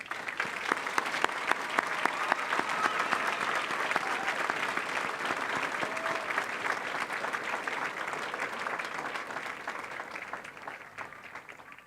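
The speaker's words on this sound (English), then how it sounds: "Please join me in congratulating them with a round of applause." A large audience at a Western Australia Police Force recruit graduation ceremony applauds warmly, with dense sustained clapping that fades slightly toward the end.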